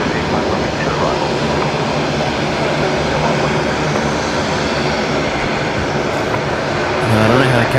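A Link Airways aircraft taxiing in to its bay at Brisbane Airport at night, a loud steady engine drone with broad rumbling noise throughout.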